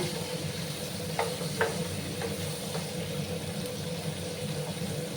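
Okra (bhindi) fries in a pan with a constant, fairly loud sizzle, broken by a few soft clicks from stirring. No talking.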